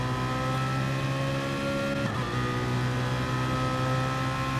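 Onboard engine of the Cornerstone BMW race car in a sim racing GT series race, a steady loud droning whine at high revs with one brief shift dip midway.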